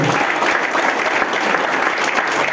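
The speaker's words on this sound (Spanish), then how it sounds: "Dale un aplauso al Señor" A church congregation clapping together, sustained dense applause close by and loud throughout, with a hint of voices mixed in.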